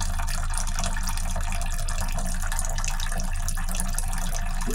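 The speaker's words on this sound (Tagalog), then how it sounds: "Pag ganyan kahina yung tulo ng tubig" A weak trickle of water runs from a tap, a steady faint splashing hiss that continues unbroken with no voices.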